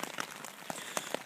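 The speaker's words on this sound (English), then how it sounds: "started raining all night" Rain falling on a tent at a night campsite: close, irregular pattering drops striking the fabric in a quick, uneven patter.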